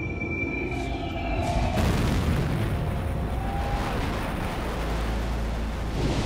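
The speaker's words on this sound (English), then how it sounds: "The Big Bang." A deep, rumbling explosion-like boom representing the Big Bang swells after a rising hiss and then rolls on as a loud, sustained roar that fills the rest of the stretch.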